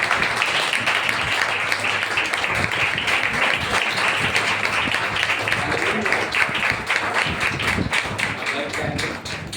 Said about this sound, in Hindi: आइए पवित्र आत्मा का जोरदार तालियों के साथ हम स्वागत करेंगे।